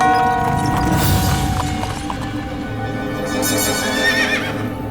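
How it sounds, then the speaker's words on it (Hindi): A horse neighs loudly and close, with a long whinny that fades into a dim background rumble, in a dramatic scene where a horse-drawn carriage approaches. "घोड़ा गाड़ी की आवाज आ रही है मालिक।"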